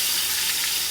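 Chopped tomato drops into hot oil with cumin for a fish and mung dal curry, making a loud, steady, close sizzle that hisses evenly throughout.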